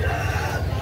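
A chicken calls at a live chicken market in Carbon, Cebu, a short, close, loud burst of fowl noise amid the crowded market.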